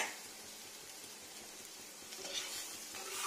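Bitter gourd slices frying in oil in a pan, a soft steady sizzle close by that swells slightly toward the end.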